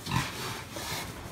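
Pigs on a hog farm give soft grunts and snuffles, faint and a little distant, over a short stretch.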